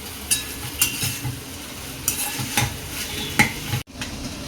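Grated coconut is sautéed into a brinjal rice mixture, with a steady sizzle broken by repeated scraping spoon strokes against the pan, close and fairly loud, then a sudden brief drop.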